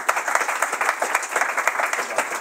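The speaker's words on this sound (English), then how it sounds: "So let's give a good applause to Tuomas and welcome him to the stage." An audience applauds at a Helsinki Node.js tech event, producing a dense, steady wash of many hands clapping at close range that continues without a break.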